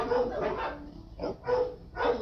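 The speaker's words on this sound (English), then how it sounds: "Maybe we'll do an ambiance video of barking sanctuary dogs." Several dogs at an animal sanctuary bark in loud bursts, a few sharp woofs with gaps between them, close by and without speech over them.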